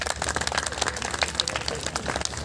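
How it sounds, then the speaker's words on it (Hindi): Audience at a school gathering honouring high school exam results clapping for students and parents, a dense, steady patter of many hands close by with slight rises and falls throughout. "आपकी तालियों के पात्र ये स्टूडेंट हैं"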